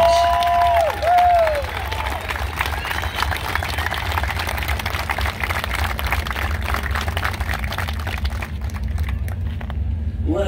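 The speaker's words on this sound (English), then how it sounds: "if everyone would join me in a round of applause for our firemen, our police officers, and our paramedics" Crowd applause at a first responders tribute, honoring firemen, police officers and paramedics: steady broadband clapping with some voices over a low rumble, continuous for about ten seconds and thinning out near the end.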